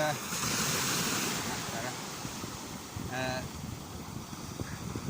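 Waves wash continuously onto a steeply shelving beach at Great Yarmouth, with a broad surf roar and wind buffeting the microphone, and a brief tonal call briefly rising above the surf.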